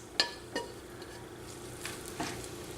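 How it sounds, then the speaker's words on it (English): Vegetables sizzle steadily in a frying pan with a soft crackling hiss, punctuated by a few light scraping and tapping sounds from stirring, while cooking an omelette. "You can probably hear all of that sizzling."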